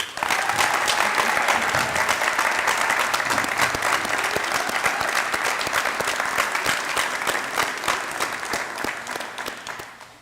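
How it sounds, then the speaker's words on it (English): A crowd at a San Antonio all-star high school football event applauds steadily, the sustained clapping loud and even throughout before tapering off at the end. "Gentlemen, stand up and let's give them a round of applause."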